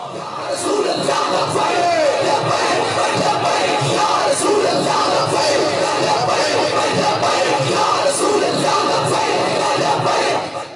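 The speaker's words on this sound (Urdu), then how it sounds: "میں نعرہ لگواتا ہوں" Large rally crowd at a religious political gathering in Gujranwala, a dense mass of voices yelling and shouting slogans together, loud and sustained throughout with whoops rising above the roar.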